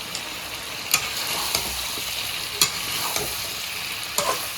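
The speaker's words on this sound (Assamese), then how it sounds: "এইখিনি ভাজি ল'ম এতিয়া ধুনীয়াকৈ ভাজিলোঁ" Goat meat fries in a pan with a loud, close, continuous sizzle, punctuated every second or so by sharp scrapes and knocks of a spatula stirring the pieces; no voices.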